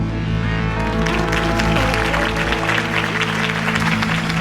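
A crowd applauds loudly and steadily after a campaign speech in the Batman Telltale Series video game, a dense wash of clapping that carries on throughout over a low musical hum.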